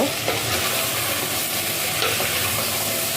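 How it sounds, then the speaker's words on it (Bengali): Taro pieces coated in spices are stirred as they fry in a hot clay pot, giving a steady, close sizzle with scraping stir sounds throughout and no talking. "আবার একটু নেড়ে নেব"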